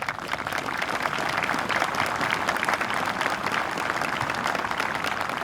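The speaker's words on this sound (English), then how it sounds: "I think everybody deserves a great round of applause" A Veterans Day ceremony audience claps for the naming of the Vietnam Veterans Memorial Bridge, a steady, moderately distant round of applause that holds evenly throughout.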